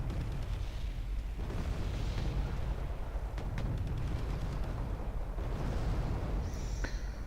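Artillery explosions in the Wargame: Red Dragon video game, a rumbling bed of distant booms and bursts rolling continuously, with a few sharper cracks standing out briefly near the middle and end.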